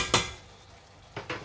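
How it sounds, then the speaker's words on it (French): Calf liver simmering in a pan is stirred with a utensil, giving one sharp scrape and clink near the start and two more close together at the end, with quiet between. "De temps en temps, bien sûr, on remue."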